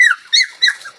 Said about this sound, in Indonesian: banyak anak guguk